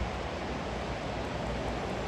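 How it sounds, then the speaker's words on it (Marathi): River water rushes far below a valley road on the route to Yamunotri, heard as a broad, constant roar of distant flowing water, steady and fairly quiet, with no voices. "आवाज जाम येतो पाण्याचा, वरपर्यंत येतो एवढं खाली असून पण."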